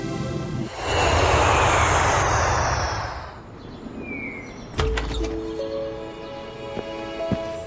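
A cartoon airplane engine roars loudly as it comes in to land, then fades, giving way to clunks and short tones.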